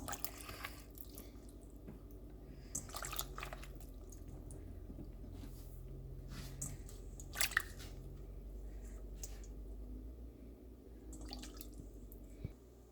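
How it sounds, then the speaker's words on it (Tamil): Cut eggplant pieces are squished and rinsed in water by hand, giving soft wet squelches, drips and sloshes at irregular intervals, quiet and close with no talking. "எல்லாம் வெட்டிட்டேன் கழுவி எடுப்போம்"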